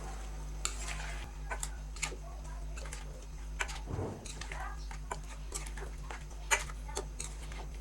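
Chopped potatoes and green beans are stirred in a pan with faint sizzling and spaced scraping ticks of a utensil against the pan, quiet and close, with one brief louder rustle in the middle.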